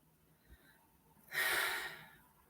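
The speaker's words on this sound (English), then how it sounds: "So I'm distracted now just by breathing." A single close, audible breath, a sharp inhale or exhale lasting about half a second, follows a quiet stretch with a faint earlier puff.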